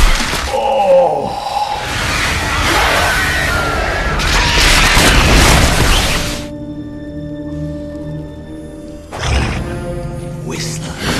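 Grenade explosions in the film Blade II come as a dense burst of loud booms and crashing debris for several seconds. A quieter stretch follows, then one more sharp impact near the end.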